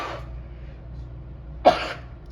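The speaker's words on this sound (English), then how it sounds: "Sorry about that sneeze." A single sharp sneeze bursts out after a quiet stretch, close and fairly loud, with a faint breath before it and low room hum underneath.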